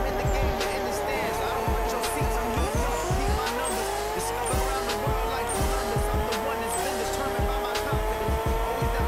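A car engine in the video game Pixel Car Racer revs hard at its limit, a loud buzzing whine climbing in steps through the gears, with tire squeal and a person talking over it.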